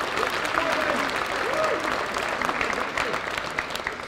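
A high school Christmas band concert audience claps in a dense, steady round of applause filling the hall, with a few voices faintly mixed in.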